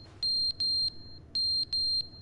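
A high electronic alarm in The Stanley Parable video game beeps in two pairs of sustained tones with a short gap between them, clear and piercing over a quiet background.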